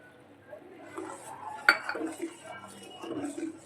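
A spoon scrapes and clinks against a pan while halvo syrup with lemon juice is stirred, soft intermittent metallic scraping with one sharp clink near the middle, close and fairly quiet.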